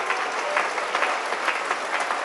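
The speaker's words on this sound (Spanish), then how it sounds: "Un aplauso fuerte para nuestro Dios." Applause from a church congregation praising God during a sermon, a steady dense wash of many hands clapping with no voices, held evenly loud throughout.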